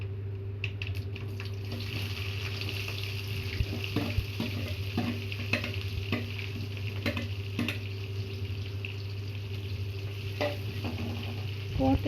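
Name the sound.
onions and spices being stirred while frying for chicken gravy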